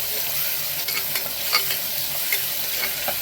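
Ground spinach paste fries in oil for palak rice, giving a soft continuous sizzle broken by several light scraping stirs of a spoon in the pan, close by and without talk.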